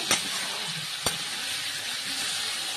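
Pumpkin curry sizzles steadily in a pan as it is sautéed, with a constant frying hiss and two sharp clinks from the stirring spoon striking the pan.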